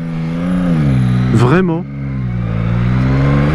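A 2021 Yamaha MT-09 motorcycle engine hums steadily while riding, then briefly rises and dips in a quick rev before settling back into a sustained drone. A rider speaks a single word.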